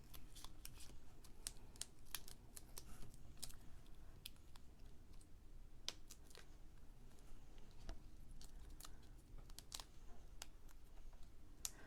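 Backing paper being peeled off a roll of adhesive craft material during a black-and-white craft class, heard as faint, steady crackling and ticking close by over a low hum, with no talking.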